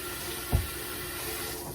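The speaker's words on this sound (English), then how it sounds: "the last thing we have to do is rinse off our cucumber and cut it up" Running tap water rinsing a cucumber in a kitchen sink, a steady soft wash of flow with one brief louder splash near the start, close by and alone.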